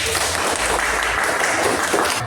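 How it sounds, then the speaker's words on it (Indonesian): Students in a classroom clap together in a short, noisy burst, a dense roar of many hands that stays loud and constant for a couple of seconds. "tepuk tangan"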